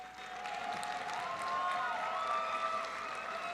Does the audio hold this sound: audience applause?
yes